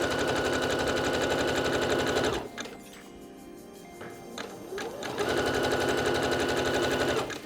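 A sewing machine runs a zigzag stitch over stretch elastic on bra and pants fabric, a steady rapid mechanical whir that stops briefly midway with small handling noises, then resumes and continues loud and close to the end.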